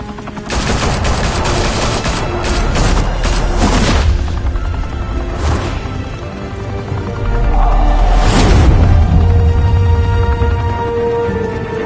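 Loud, dense gunfire in a Batman video game: rapid bursts and sustained automatic fire with heavy booming impacts, continuous across the whole stretch, no voices.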